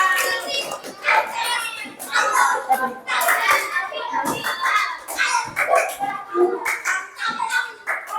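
Schoolchildren in a classroom clapping for a group that just presented, uneven bursts of hand claps mixed with lively kids' chatter and voices, close and fairly loud.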